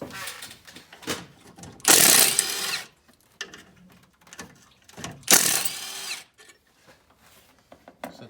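A power tool spins out a couple of 8mm bolts holding the radiator supports on a 6.0 diesel engine: two loud, close bursts about a second each, with quieter mechanical clicks and rattles in between.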